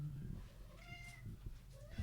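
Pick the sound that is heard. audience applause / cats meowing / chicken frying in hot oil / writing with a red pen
cats meowing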